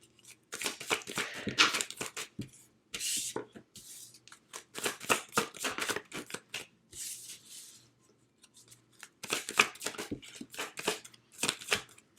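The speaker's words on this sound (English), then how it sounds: "let me pull some regular tarot cards and kind of see what we have for you" Tarot cards are shuffled by hand in repeated quick riffling and flicking bursts, close and fairly soft, with brief pauses between rounds.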